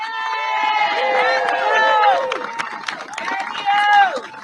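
An outdoor political rally crowd in Washington DC cheers and applauds, a dense wash of whoops, shouts and clapping with loud cheering voices rising and falling throughout.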